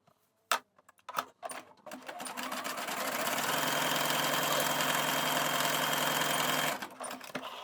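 A sewing machine runs a stretch stitch along a trouser seam, starting with a few short bursts and then settling into a steady rapid mechanical whir for several seconds before stopping.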